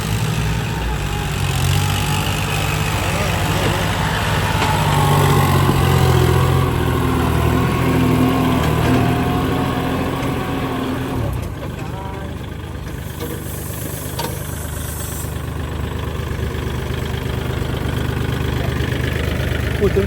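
A secondhand Kubota three-cylinder tractor engine runs loud and close, its rumbling revs rising and falling over twenty seconds with a steady mechanical clatter, while a person talks over it.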